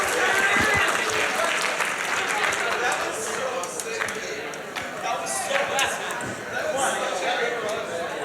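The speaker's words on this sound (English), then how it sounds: "One more round of applause" A crowd at a speedrun marathon event claps and cheers at moderate distance, the applause swelling and easing with voices mixed into the noise.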